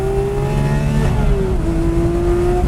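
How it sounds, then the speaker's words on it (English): Porsche 991 Speedster flat-six of about 500 horsepower revs hard and steadily through a gear shift, its pitch dipping briefly at the change, loud and continuous with no talking. "500 horsepower is enough, I will say it again, especially when it sounds like that,"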